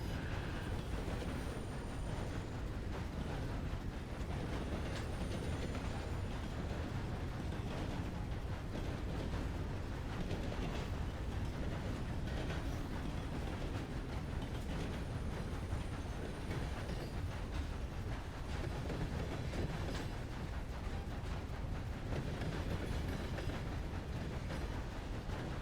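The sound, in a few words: train running on rails, from a video game (Red Dead roleplay)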